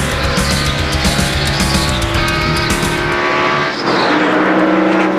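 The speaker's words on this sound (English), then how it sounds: "Jamie McMurray has spun around." A NASCAR stock car spins out in turn 4 at Phoenix during the 2002 Checker Auto Parts 500, loud engine roar and tire squeal from a pack of cars, with a sharp skidding sweep and engines surging again near the end.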